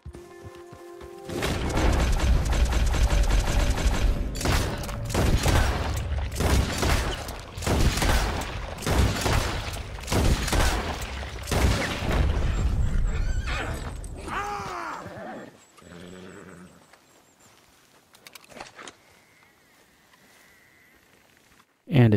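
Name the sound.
dual-wielded LeMat revolver and M1899 pistol gunfire, Red Dead Redemption 2 video game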